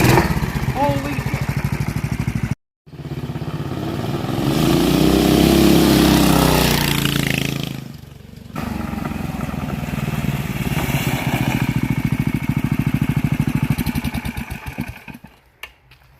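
A Baja MB200 mini bike with a 440cc big block engine revs loud and close, dropping out briefly, swelling into a strained high-rpm roar, then settling into a steady throaty drone with a voice over it.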